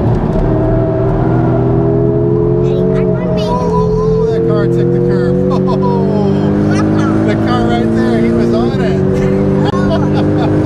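A Porsche Carrera GT runs on the Nürburgring, its engine a loud, continuous high-pitched wail with shifting pitch as it takes curves, heard close under wind and occasional voices.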